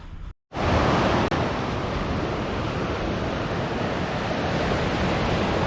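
Black Sea surf rolls onto an empty autumn beach at Varna, a steady loud wash of breaking waves mixed with wind buffeting the microphone, after a brief dropout at the start.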